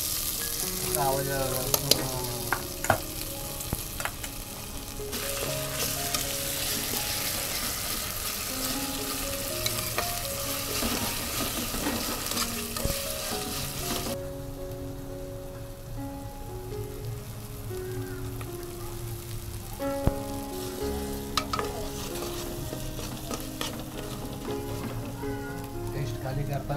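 Ground paste of ginger, garlic, onion and coconut masala sizzles steadily in a pan for chicken biryani, with a continuous frying crackle running under background music throughout.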